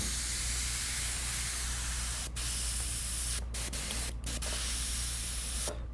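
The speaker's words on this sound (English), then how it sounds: "just using the airbrush to freehand in a little bit of depth and shadows that the stencil doesn't provide" Airbrush spraying paint through a stencil on a skull design, a loud continuous hiss held steady for several seconds with a few brief cut-offs as the trigger is released.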